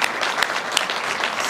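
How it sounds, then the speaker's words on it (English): Dense, steady applause from a crowd of diners at a student ambassador dinner, many hands clapping together in a continuous wash with no pauses. "let's give these guys a round of applause"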